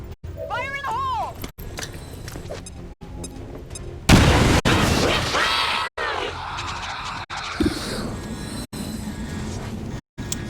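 A thrown grenade blasts in the video game XCOM 2, a sudden loud boom partway through that decays into rumbling debris, amid chopped game sounds and a brief whistling tone earlier.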